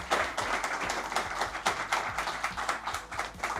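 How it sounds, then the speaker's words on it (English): A small group claps steadily, a dense patter of individual hand claps at close range with no talking. "Please give a big round of applause for our panel"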